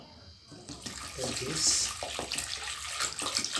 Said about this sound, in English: So I'm going to pour in this water